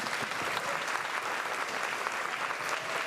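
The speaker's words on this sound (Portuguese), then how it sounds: "Eu queria que vocês pudessem reconhecer todos vocês com a salva de palmas" Audience applause at a corporate culture café session, a dense steady wash of many hands clapping throughout, fairly even in loudness with no voices rising above it.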